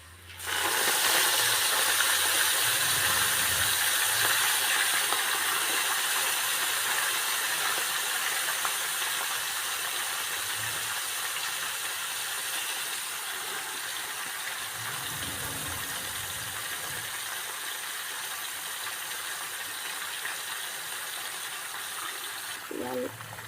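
Leafy amaranth (rajgira) greens dropped into hot oil, a loud close hiss and sizzle that bursts up at the start and slowly eases over the following seconds.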